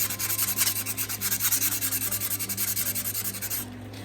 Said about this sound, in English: take a piece of sandpaper and gently rub the sandpaper onto the bottom of your plate.